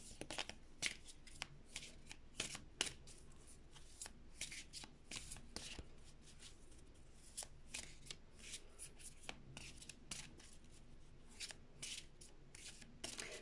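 Oracle cards being shuffled up close, a quiet run of papery riffles and slaps in irregular bursts with no talking.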